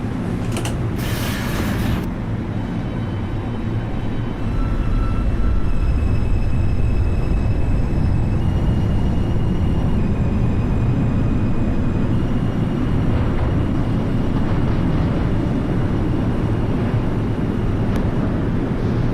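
An R142 subway train running on a 2 express in the OpenBVE train simulator, heard as a loud steady rumble of wheels on rail with motor whine and occasional creaks, after a brief chime-like tone at the start.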